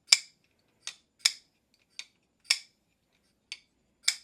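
Seven crisp metallic clicks spaced irregularly, sharp and close, a folding knife blade snapping open and shut with silence between each.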